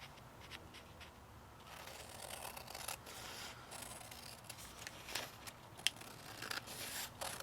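Scissors trim paper for pen pal mail, a run of faint, close snipping and rustling cuts in quiet surroundings.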